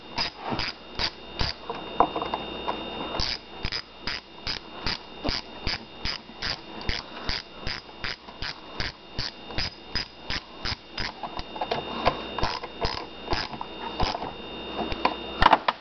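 A ratchet wrench tightens the 8mm nuts on a Poulan Wild Thing chainsaw, giving a close, rapid series of evenly spaced clicking strokes that run steadily throughout.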